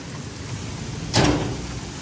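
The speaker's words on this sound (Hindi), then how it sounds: "बहुत तेज़ बारिश है" Heavy village rain hisses steadily and close by as a dense, even wash, briefly swelling with a louder splash or gust near the middle, with no voices.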